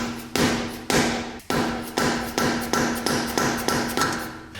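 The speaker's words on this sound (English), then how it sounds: "I just gotta hit it with the hammer right here and screwdriver to stake it in" Sharp metal hammer strikes on a screwdriver stake a nut on a forged turbo BMW M50 engine from an E30. About ten close, evenly spaced blows ring out with no talking.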